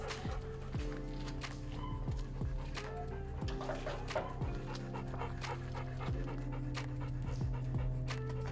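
A dog pants rapidly and steadily at close range, a continuous rhythmic huffing breath with a faint background hum and no talk over it.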